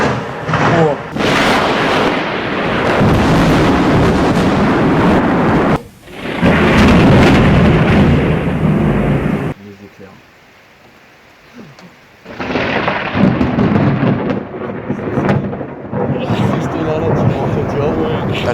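Thunder from a lightning storm rolls heavily, heard through a window with rain, long loud rumbling bursts separated by a brief quieter lull.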